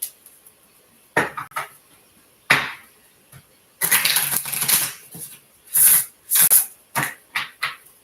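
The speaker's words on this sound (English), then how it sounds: "One more shuffle." Irregular bursts of tarot cards being shuffled and riffled, with short crisp flurries separated by quiet gaps, close by and without talking.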